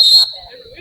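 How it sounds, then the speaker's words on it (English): A short, sharp referee's whistle at a lacrosse game, one high piercing blast lasting about a quarter second, followed by faint crowd and voice sounds. "still blow the whistle"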